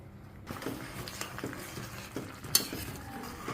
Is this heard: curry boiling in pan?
yes